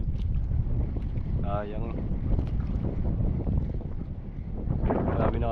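Strong northeast wind buffets the microphone aboard a small fishing boat out on rough sea, a heavy continuous low roar with water and hull noise, while someone speaks briefly over it.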